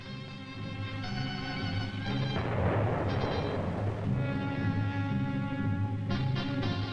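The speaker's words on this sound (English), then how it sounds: "When the explosive is detonated, the geophones pick up the sounds of the blast" A small dynamite charge set in a drilled hole goes off for seismic mapping, heard as a rumbling burst of blast noise that swells for about two seconds under a steady droning background.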